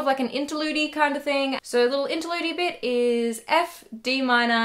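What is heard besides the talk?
None of the usual background noises is heard.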